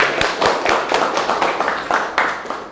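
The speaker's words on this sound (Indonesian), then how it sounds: "Oke, tepuk tangan dulu." A vocational school class in Indonesia applauding together, a dense burst of close clapping from many hands that pulses in quick rhythmic waves for a few seconds.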